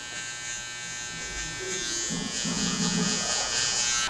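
Electric shaver buzzing steadily during a men's haircut, a continuous close hum that grows slightly louder partway through as it works along the hairline, heard alone without talk.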